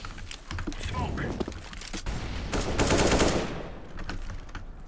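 Rapid gunfire in the video game CS:GO, bursts of shots firing through a wall, with a player's voice talking over the shooting.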